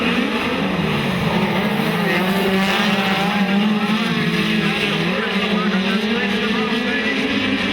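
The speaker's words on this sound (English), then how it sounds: "we're about to go right foot in the bucket and go Midget Racing" Midget speedcars race at Maryborough Speedway in a Queensland speedcar title night, their engines roaring loud and continuous with rising and falling pitch as they circle, under a race commentator talking.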